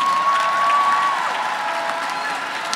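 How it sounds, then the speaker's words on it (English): A crowd applauds steadily at a high school graduation ceremony, a dense wash of clapping that holds for a few seconds, with a faint tone ringing underneath at the start. "Please give them a round of applause."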